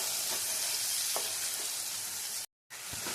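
Chopped tomato and onion cook in a pan over a medium flame, giving a steady, soft sizzle with a couple of faint stirring clicks and a brief gap of silence near the end, with no talking.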